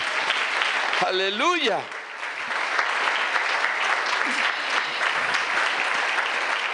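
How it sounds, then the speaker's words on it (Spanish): Church congregation applauding steadily throughout, a dense continuous clatter of many hands at a fairly loud, even level, with a brief voice calling out near the start. "¿Cuántos damos un aplauso al Señor?"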